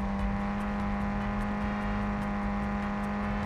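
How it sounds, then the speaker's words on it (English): A loud, steady car engine drone in the video game Call of Duty: Warzone, with a strong low hum throughout, constant and close, like a car idling or cruising without letup. "Why is the car so loud?"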